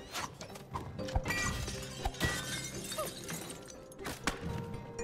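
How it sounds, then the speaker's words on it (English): Bottles smashing in the video game It Takes Two, a run of sharp glass-shatter crashes with clinking debris, several bursts in quick succession over busy game sounds, fairly close and loud. "I'm just smashing bottles on my way"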